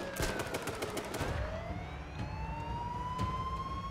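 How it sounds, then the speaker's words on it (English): Gunfire in H1Z1, a cluster of rapid shots at the start, then sparser single cracks under a rising siren-like tone, moderately faint overall. "we're both getting shot at."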